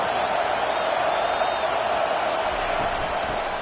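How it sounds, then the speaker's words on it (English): A college football stadium crowd roars as one continuous, loud wash of cheering, steady throughout with no clear individual voices standing out. "Listen to this crowd just shaking the girders of this place"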